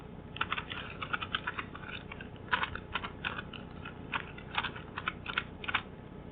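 Text is typed on a computer keyboard into an MS Word document as bursts of quick, light key clicks in irregular clusters with short pauses, close and moderately quiet.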